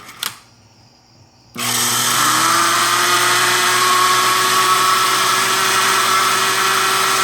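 A shorted-coil chopper motor in its AC configuration starts abruptly after a brief click and quiet, then runs at very high RPM with a loud, steady, close whine and buzzing hum.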